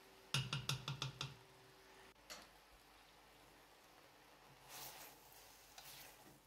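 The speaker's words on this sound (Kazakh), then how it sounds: "тура осылай 5 минут, не болмаса 10 минуттай қуырамыз" Vegetables for a winter cabbage salad fry in a pan over medium heat, giving a faint, steady sizzle that opens with a quick run of sharp utensil taps. Brief louder bursts of crackle follow later.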